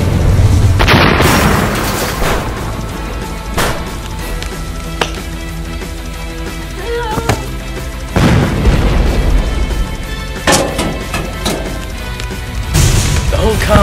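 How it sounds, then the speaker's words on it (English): Rocket launcher blasts in the Halo video game, level Icebox: several loud booming explosions with crashing debris, separated by quieter stretches of rumbling in-game sound. "I've got a rocket launcher!"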